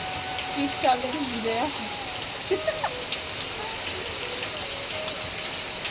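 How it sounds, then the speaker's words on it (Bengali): Steady rain pours down outside a flooded home beside a pond, a continuous broadband wash with a few faint background sounds breaking through. "এই যে দেখো ঝমঝমি আবারও বৃষ্টি শুরু হয়ে গেল"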